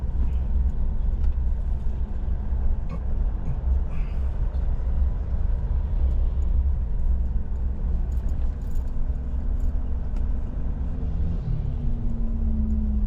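A 2025 Mitsubishi Montero Sport with manual transmission idling at about 700 RPM in city traffic, heard from the cabin as a steady low engine rumble, with a few faint clicks and rattles.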